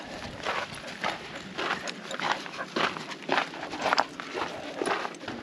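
A dog moves along a rocky canyon trail in Poison Spring Canyon, Utah, its steps making close, steady scuffing and crunching footfalls with occasional louder scrapes and no talk.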